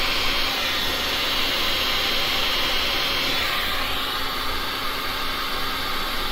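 A blower running on high to push resin colours over a pink and black base tint, producing a loud, steady, close rushing hiss that continues without a break and with no talking.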